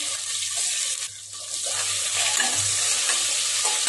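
A medium chopped onion fries with bay leaves and whole spices for prawn biryani. The close, hissing sizzle dips briefly, then swells back, stirred now and then.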